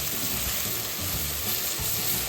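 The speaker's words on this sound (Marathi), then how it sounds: "तर आलं लसूण पेस्ट आपण अशी एक अर्धा मिनिट परतून घेऊया" Ginger garlic paste frying in hot oil for a cauliflower, pea and potato curry, a steady close sizzle running throughout without pause.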